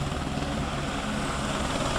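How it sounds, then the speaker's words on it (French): Helicopter flying at an air show in Belvès Saint-Pardoux, its steady rotor and engine noise loud and continuous throughout, heard from a moderate distance. "L'hélicoptère, on a pour habitude de dire que c'est un aéronef qui se pilote sur une pièce de 2 euros."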